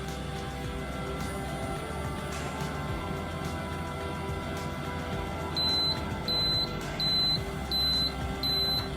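A Cookbot electric pressure cooking appliance emits a series of short, evenly spaced high beeps from its timer, five in a row, over a steady low hum in a kitchen.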